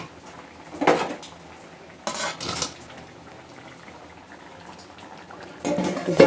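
Ghugni spooned from a pot into a bowl in a home kitchen, with a few sharp clatters of steel utensils and pots in short bursts separated by quiet stretches.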